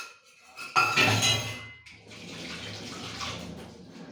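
An item dropped into a kitchen sink with a sharp clink, then water running steadily from the tap and splashing, close and fairly loud.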